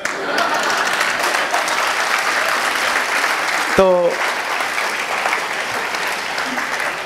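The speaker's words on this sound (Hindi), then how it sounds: "अच्छा ताली क्यों बजाई आपने ये तो बताओ" An audience claps steadily for several seconds, a dense wash of applause with a brief spoken word partway through.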